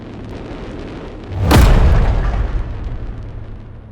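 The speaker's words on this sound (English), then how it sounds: "The explosion was so loud that Matt was sure his heart stopped" A single loud explosion bursts out suddenly, a deep boom with a sharp crack that rumbles and slowly fades over a low steady background hum.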